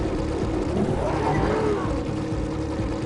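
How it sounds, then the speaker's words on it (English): An engine revving sound effect from the video game Jak and Daxter plays as a low, growling, rumbling rev over game sounds and lasts about three seconds. "that little sound effect right there of like the engine revving when you run into shit"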